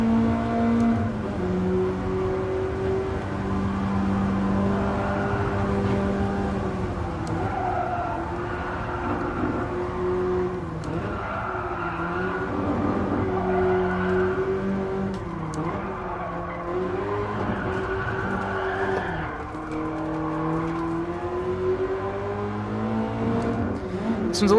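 BMW E30 M3 engine in a VR racing game on hot laps, pulling loud and steady through the whole stretch, revs rising and falling with each gear and corner, with tire squeal mixed in.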